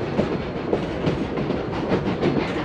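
A train on the Cumbres and Toltec Scenic Railway rolls along a straight stretch of track, with a steady rumble and rhythmic clickety-clack of wheels heard from on board.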